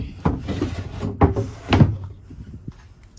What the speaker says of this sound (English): right here, you can see that it does have the ultra deep drawers that extend to the back of the unit